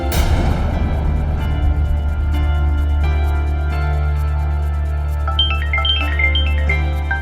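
A mobile phone ringtone for an incoming call from mom, a steady looping electronic melody with bright repeating tones that rings on loudly and continuously with no talk over it.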